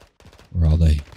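Chopper gunner fire in Call of Duty Warzone: a short, loud burst of heavy rapid gunfire lasting about half a second, rumbling and dense, preceded by faint scattered clicks.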